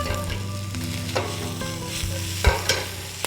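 Onions, garlic, ginger and green chilies frying in a pan for a mushroom curry, with a constant close sizzle under repeated scraping and clacking stirs from a utensil.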